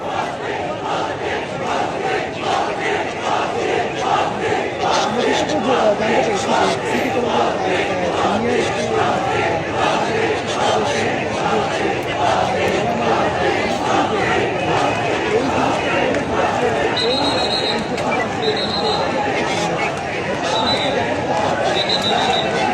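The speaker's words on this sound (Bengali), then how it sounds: "শিক্ষার্থীরা কিন্তু তারা কিন্তু বলছেন যে কোনোভাবে তারা কিন্তু আবার স্লোগান তুলছেন" Students shout slogans during a street clash between Dhaka College and City College, a dense roaring crowd chanting continuously and loudly, with voices overlapping throughout.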